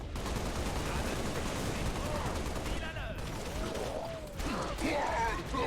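Rapid gunfire rattles in Halo Reach in dense bursts with explosions and game effects, while someone talks in French over the shooting.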